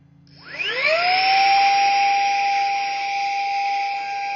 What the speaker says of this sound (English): So I'm going to kick on this fan.